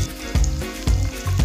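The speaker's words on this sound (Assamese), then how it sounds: "এইকণ গৰম তেলতে পিঁয়াজ দি পিঁয়াজৰ ৰং সলনি হোৱালৈ অপেক্ষা কৰি ৰ'লোঁ।" Onions sizzling in a little hot oil, the frying crackle rising and falling in steady pulses about three times, close and loud with no one speaking.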